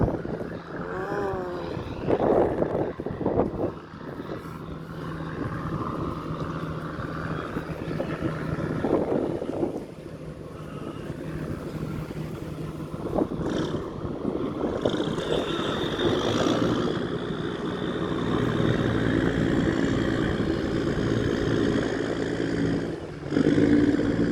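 A boat engine roars at full throttle against current and wind, a loud, rough, sustained drone with fluctuating pitch and gusty buffeting from wind on the microphone.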